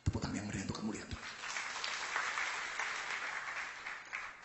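A church congregation breaks into sustained, dense applause during a pastor's sermon, starting right after a brief spoken phrase and carrying on steadily at a moderate distance to the end.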